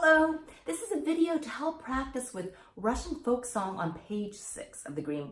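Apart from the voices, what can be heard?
No everyday noises stand out.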